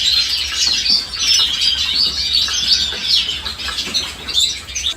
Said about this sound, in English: Feast your eyes on the Gloucester Canary, a tiny songbird